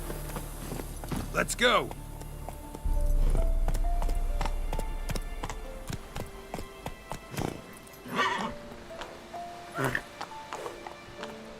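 Roach the horse in The Witcher 3 galloping: rapid rhythmic hoofbeats thud close by, alongside a whinny and game music, with someone speaking briefly over them.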